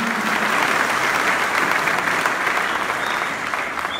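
A church congregation gives a sustained round of hand clapping for the Lord after a prayer, a dense, steady wash of many hands lasting several seconds and easing slightly toward the end.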